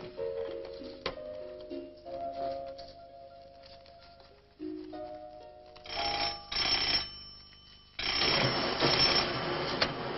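A telephone rings back after an operator's check call on a line reported out of order, giving repeated bursts of bright ringing in the second half, loud and close, following quieter tonal sounds and with no one speaking.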